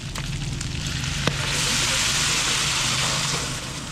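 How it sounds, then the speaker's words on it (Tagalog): Sprite is poured into pork adobo sizzling in a pan, and a rushing hiss swells over the steady crackle of frying, close and sustained, with no talking. "Buhusan natin itong Sprite."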